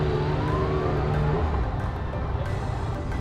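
Yamaha MT-09 motorcycle engine on a ride in standard mode, a loud continuous engine drone with wind rush, steady throughout with a slight pitch change.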